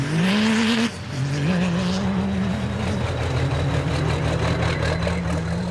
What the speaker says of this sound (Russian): привычную тишину и размеренность сельской жизни нарушает рык моторов